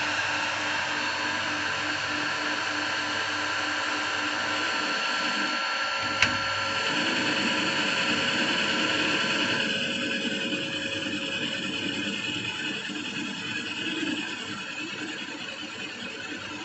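Continuous whirring hum of a lathe machining a stage 2 cam, steady throughout with one brief sharp click partway through and a slight shift in tone near the end.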